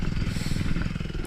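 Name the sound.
four-stroke dirt bike engine running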